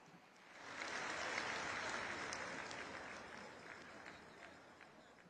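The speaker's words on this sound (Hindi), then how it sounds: "एक बार जोरदार तालियां होनी चाहिए" Audience applause at a Gujarat women's empowerment event, a broad swell of clapping that builds, holds steadily, then slowly thins, with a voice faintly mixed in beneath.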